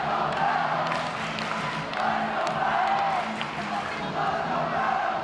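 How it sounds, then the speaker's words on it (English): A volleyball crowd cheers for Longmeadow, loud sustained yelling and whooping from a packed gym that swells and surges in waves without letup. "The crowd is going crazy for Longmeadow"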